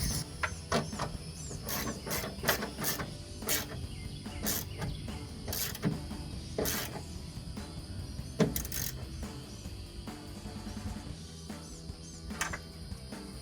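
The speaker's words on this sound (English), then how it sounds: "pop your socket wrench back on and tighten it down" A socket wrench tightens a bolt on a rear spoiler of a 2015-2023 Ford Mustang, giving a series of sharp ratcheting clicks in irregular bursts close by, over a low background hum.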